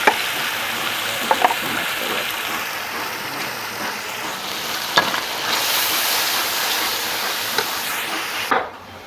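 Garlic, ginger and green chili frying with browned onion in a pan, a steady loud sizzle with occasional stirring clinks.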